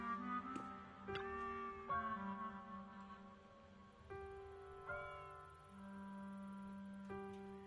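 A chubby cat in the video game Zenless Zone Zero meows several times in a row, clear drawn-out tonal cries close up, each followed by a short pause, with no talking over them.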